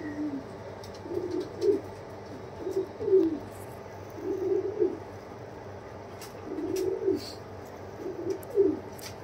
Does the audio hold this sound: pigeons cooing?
yes